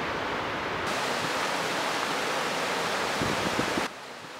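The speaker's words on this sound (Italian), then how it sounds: "le cascate di Lilla, a cui vorrei portarvi oggi" The Lillaz waterfalls in Gran Paradiso National Park roar as a loud, steady broadband rush of falling water, constant and close, with no voices.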